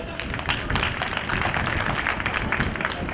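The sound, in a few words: audience applause in honour of the four women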